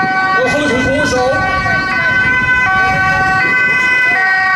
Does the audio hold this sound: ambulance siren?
yes